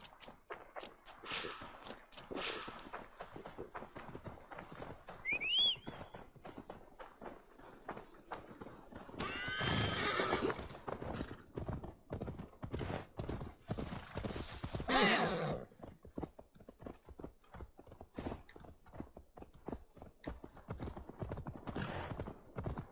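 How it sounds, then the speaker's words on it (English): Rapid clip-clop of horse hooves in the video game Assassin's Creed Valhalla runs throughout, with a couple of loud neighs rising above the galloping rhythm. "Now to deliver Magni his horse."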